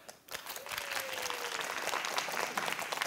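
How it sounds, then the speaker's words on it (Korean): An audience claps through a live public comedy show, the applause swelling quickly after a quiet start and then holding as a dense, fairly distant patter. A faint whistle-like tone glides briefly under the clapping. "박수"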